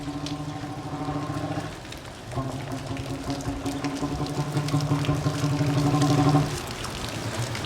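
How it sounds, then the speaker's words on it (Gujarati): The first monsoon rain falls steadily, a continuous near hiss of rain pouring and dripping on surfaces that swells slightly before easing near the end. "બંધ રહે વરસાદ, થોડો ફાસ કરો ને"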